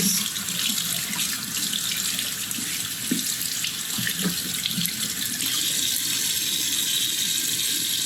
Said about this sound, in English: Let's wash hands and see what happens.